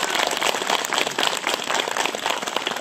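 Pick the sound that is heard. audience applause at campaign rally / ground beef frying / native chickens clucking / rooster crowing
audience applause at campaign rally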